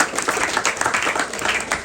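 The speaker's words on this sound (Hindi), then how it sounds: "एक बार इनके लिए भी जोरदार ताली बजाएंगे" An audience claps warmly at a talk, a dense and steady burst of many hands together lasting the whole short moment, with no voices standing out.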